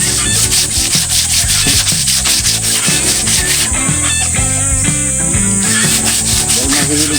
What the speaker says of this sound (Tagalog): Kaya kailangan natin lihain.